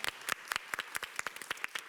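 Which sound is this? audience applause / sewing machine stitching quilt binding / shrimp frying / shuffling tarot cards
audience applause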